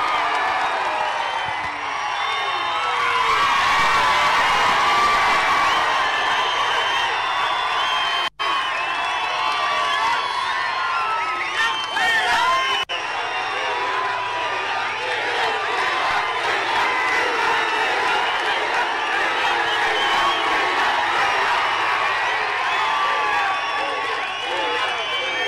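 Dense, sustained roar of a large crowd cheering, whooping and clapping at a political rally, loud and continuous throughout, with a speaker's amplified voice over it at times.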